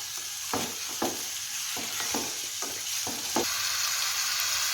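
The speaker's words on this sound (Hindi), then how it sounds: "जी देख रहे हैं सैम्यूल फ्राई कर रहे हैं" Chicken pieces for malai boti fry in a hot pan with a bright, steady sizzle, punctuated by about seven sharp spatula scrapes and taps at irregular intervals.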